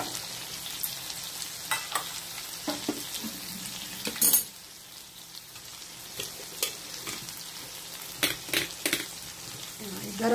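Quail meat curry sizzles and bubbles gently in a pan, a soft continuous frying hiss. It is broken by occasional clinks and scrapes of a spoon or lid against the metal pan, and a voice speaks quietly at times.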